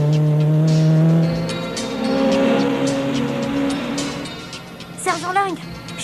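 A vehicle chase involving a motorcycle, with loud engine drones rising and fading, brief tire squeals near the end and people talking over the action.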